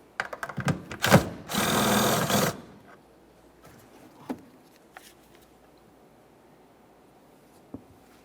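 A tool works a 10mm tail light mounting nut off a 2014-2019 Toyota Corolla, giving a short burst of clicks and then a sustained buzzing whir for about a second, followed by a few faint taps and quiet handling sounds.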